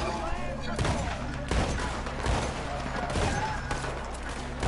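Shotgun fire from a semi-auto pump shotgun in the video game Red Dead Redemption: dense bursts of shots in a continuous loud barrage, with shouting voices mixed in.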